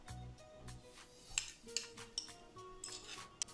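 Sugar and softened butter are mixed in a bowl with a utensil that clinks and scrapes against the sides, giving several sharp metallic taps among softer rubbing, close and fairly quiet, with no talk.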